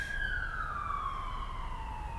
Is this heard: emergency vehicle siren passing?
yes